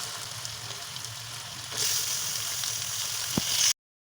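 Chicken pieces dropping into a little hot oil for dahi chicken, the sizzle jumping louder partway through and holding steady, close and alone with no talk.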